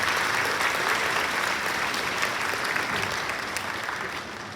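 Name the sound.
audience applause for a group at awards ceremony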